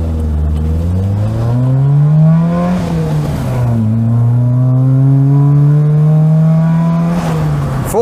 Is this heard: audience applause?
no